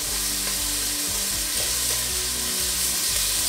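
Beef for boeuf bourguignon browns in a Dutch oven, giving a steady, close, loud sizzle and crackle of frying meat that carries on without a break and with no talk.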